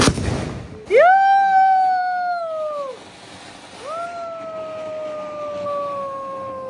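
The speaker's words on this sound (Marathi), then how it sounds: "आता आम्ही फटाके फोडतो." Firecrackers set off at a midnight festival celebration give two long, loud whistling tones, the first starting with a sharp burst and holding steady before dropping away, the second following after a short gap and trailing off slowly.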